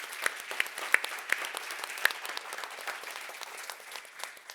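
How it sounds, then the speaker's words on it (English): Audience at a sustainability conference panel in Sweden applauds, a dense patter of many hands clapping at moderate distance, steady for several seconds with a few sharper individual claps standing out. "applause for the panel."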